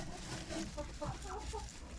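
A broody hen clucks in a farmyard coop, soft low clucks repeating steadily in a continuous murmur with background noise, no clear speech over it.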